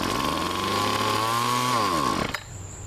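A small two-stroke engine fitted with a custom glasspack exhaust runs close and loud with a steady buzzing drone, its pitch sagging briefly before the sound drops away sharply into a quieter idle.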